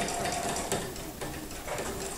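A sewing machine stitches in free motion quilting with a close, rapid mechanical chatter that speeds up and slows in short bursts. No one talks.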